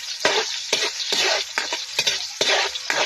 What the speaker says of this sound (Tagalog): Ayan, halo-haluin ko lang to.